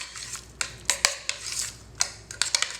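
Roasted garlic being mixed into mashed sweet potatoes in a bowl, giving a series of soft, irregular clinks and scrapes of a utensil against the dish, fairly close and without talk.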